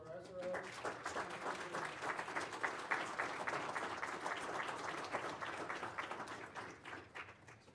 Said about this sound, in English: Would everybody like to join us once again in a round of applause for SRO?